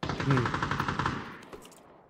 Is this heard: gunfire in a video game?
yes